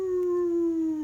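A voice imitates a dog howling at the moon in a children's song, one sustained, slowly falling howl, loud and close, sung alone.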